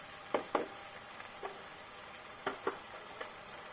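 Tomato masala frying in a pan for matar paneer, with a steady sizzle running throughout and a few sharp clinks and scrapes of stirring spaced across the clip.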